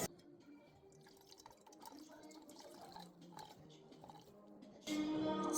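Coconut milk from grated coconut drips and trickles through an improvised mesh in quiet, close, irregular drops, ending in a louder splashing pour.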